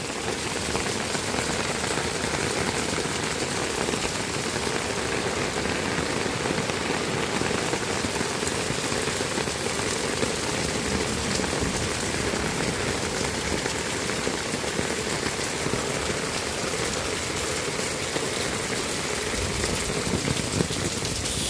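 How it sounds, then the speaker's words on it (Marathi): Heavy rain pours continuously onto surfaces, a dense and steady hiss that stays loud and unbroken throughout, with no voices. "6 ते 7 तास कंटिन्यू हा पाऊस पडत आहे."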